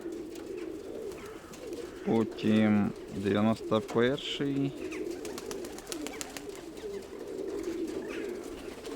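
Soft pigeon cooing drifts in the background while a person talks briefly over it; the low, murmuring coos continue steadily throughout.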